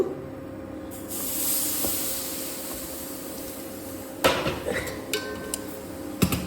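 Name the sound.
milk poured slowly into hot ghee-fried semolina for payesh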